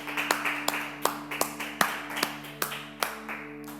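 Applause for the Lord during a Spanish-language church service: a handful of sharp, fairly close claps spaced irregularly over a steady low hum, with no talking.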